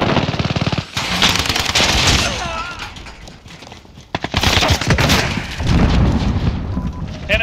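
Call of Duty Modern Warfare gameplay: sustained bursts of gunfire and heavy explosive booms, with a grenade blast among them, loud and continuous, with game voices calling out over the battle.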